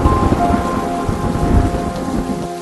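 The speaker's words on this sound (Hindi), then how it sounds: "एक दिन खूब बारिश बरस रही थी" Heavy rain pours steadily while low thunder rumbles and cracks throughout, loud and close, with no voices.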